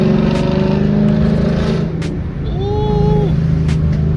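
A Chevrolet Camaro ZL1 drives through city streets with its engine running loud and close. The engine rumbles steadily, then eases off for a moment before pulling again.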